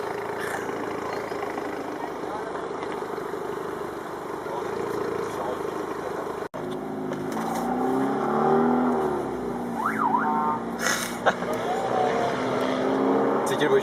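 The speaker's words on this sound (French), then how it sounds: "C'est quelle voiture tu fais ce bruit? C'est la Mustang." Ford Mustang engine heard during a large classic car touring convoy in France, a steady rumble with revving and passing vehicles, moderately distant, with people talking over it.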